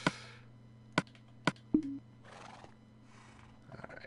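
Horses in the Minecraft video game give several short whinnies and neighs at moderate distance, spaced about half a second apart, with game ambience between them and a faint hoof-like clop.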